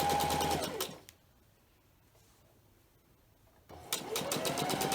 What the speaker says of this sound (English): you're going to fold over about 1/2 inch, and you're going to stitch that